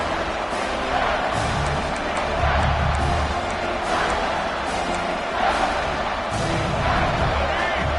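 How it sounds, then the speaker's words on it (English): A large stadium crowd at a college football playoff game roars steadily to spur the defense, a dense wash of cheering and shouting with swells of louder noise throughout, distant and continuous. "here comes the noise. This crowd is trying to inspire this defense"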